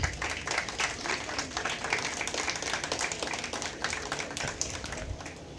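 A conference audience at a national cyber psychology event claps in a sustained round of applause, dense and fairly loud, with sharper individual claps standing out near the microphone.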